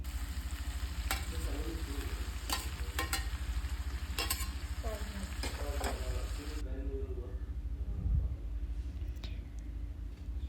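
Chopped fenugreek leaves fry in a pan for a fenugreek gojju, with a constant close sizzle and repeated scraping strokes as they are stirred.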